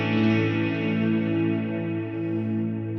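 Electric guitar played through a Line 6 Helix with the Heliosphere delay effect, sustained distorted chords blooming into a washy, repeating tail that stays loud and even throughout, with no talking.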